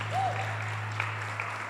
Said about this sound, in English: can we have a round of applause for these musicians, please?